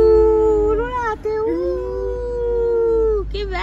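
A person imitates a wolf howl with one long, sustained voiced howl that wavers and slides in pitch. It is close and loud, briefly breaks off, then rises again at the end.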